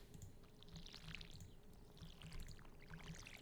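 Watering freshly planted beans in the farming game Stardew Valley gives a soft, continuous pouring splash with light sparkly chimes, faint and steady under quiet background music.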